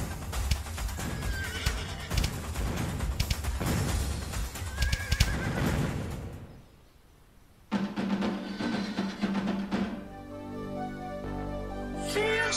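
Horses in the video game Animal Revolt Battle Simulator neigh and whinny repeatedly over busy battle clatter and hoofbeats, then go briefly quiet before more whinnies and clip-clop return, loud and close.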